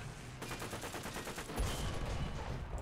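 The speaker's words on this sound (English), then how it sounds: "there's definitely a 50 caliber something or other shooting at me" Rapid bursts from a .50 caliber machine gun fire in War Thunder tank combat, a fast rhythmic stutter of shots followed by a louder, denser volley, with no talk over it.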